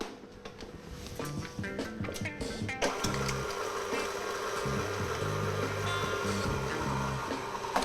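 A mixer spinning ricotta starts up after a few seconds of clattering, then settles into a steady, close motor whir with a rhythmic low churn that lasts to the end.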